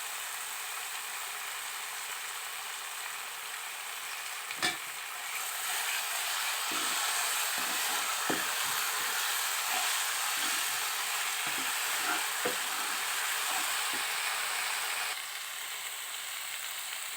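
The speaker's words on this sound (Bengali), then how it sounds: "মশলাগুলো একটু ভাজা ভাজা হয়ে এলে এবারে দিয়ে দিতে হবে সামান্য পরিমাণ টক দই" Spices fry in a pan for chicken chaap, a steady hiss of sizzling oil that grows louder partway through, with faint scraping knocks as the mixture is stirred.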